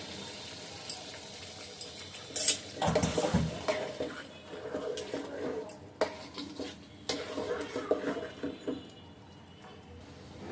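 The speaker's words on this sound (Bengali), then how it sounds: "এবার কচুটাকে একবার ভালো করে কষিয়ে নেব।" Taro pieces sautéed in a pan with broad beans, stirred with a spoon that clatters and scrapes against the metal over a low sizzle, close and irregular.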